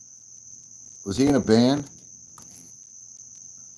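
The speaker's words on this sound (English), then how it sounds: "The background noise, the crickets in that?" Crickets chirp outdoors as a steady high-pitched drone throughout, with a man's brief spoken question briefly rising over it.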